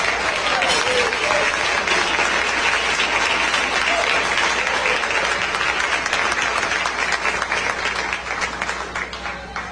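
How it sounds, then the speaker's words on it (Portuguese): Strong congregational applause in a Portuguese-language church service praising Jesus, a dense, continuous clapping that stays loud for several seconds before gradually thinning and fading toward the end, with some voices underneath. "podem louvar a Deus com as palmas bem fortes para Jesus"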